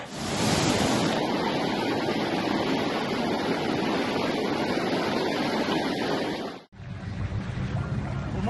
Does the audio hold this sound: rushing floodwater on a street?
yes